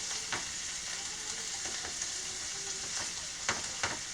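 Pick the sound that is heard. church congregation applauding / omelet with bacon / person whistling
omelet with bacon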